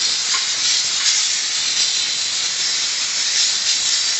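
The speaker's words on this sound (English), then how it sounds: "if you can hear me over the sound of the steam" Dupray NEAT steam cleaner hissing steadily and loudly on bathroom grout lines, a continuous close-up jet of steam with slight surges and no talking.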